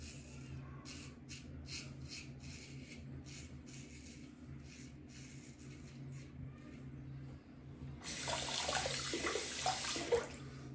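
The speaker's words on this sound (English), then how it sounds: "Rinse my blade." Tap water gushes into a sink to rinse a straight razor blade. It starts abruptly partway through as a loud, steady hiss over a quiet low hum and lasts to the end, with no talking.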